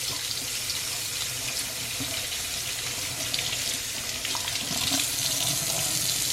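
A cleaning pad is rinsed under a running tap, a steady, close rush of water splashing into a sink with slight shifts as the pad moves through the stream.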